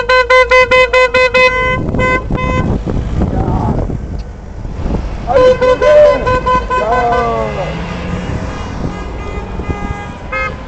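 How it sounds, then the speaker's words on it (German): Car horns honking in street traffic, with repeated loud toots in several bursts among traffic noise, while people talk nearby. "die ganzen Autos müssen mal hupen hier."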